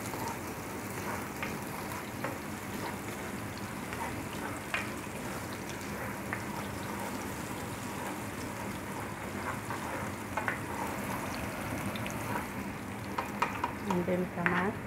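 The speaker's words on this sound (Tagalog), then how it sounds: "Igisa po tayo ng sibuyas. Antayin natin magiging brown ng konti." Onions sauté in oil until lightly browned, a soft, steady sizzle and crackle with occasional stirring scrapes, close but quiet, with no voices.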